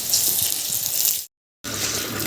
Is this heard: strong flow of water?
yes